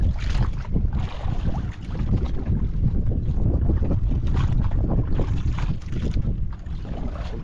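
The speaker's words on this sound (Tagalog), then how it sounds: "Malakas ang amihan." Strong northeast monsoon wind blusters across open sea, roaring and buffeting steadily with low rumbling gusts, loud and close, with no voices.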